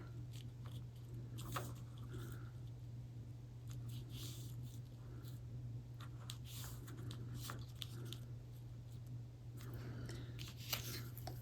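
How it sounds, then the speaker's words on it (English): Scissors snip small corners off paper flaps, producing scattered soft close cuts and crisp snips over a steady low hum, with no talking. "for the flaps, just cut off little corners"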